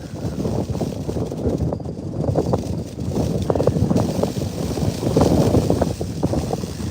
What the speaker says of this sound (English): Just a whole lot of wind